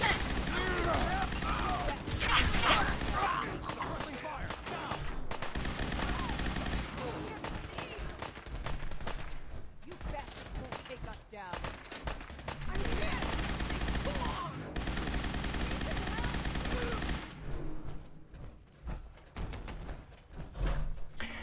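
Heavy weapon gunfire in Fallout 4, a dense, sustained barrage of rapid shots and booming impacts running for about twenty seconds, loud and close, with a brief easing toward the end before firing resumes.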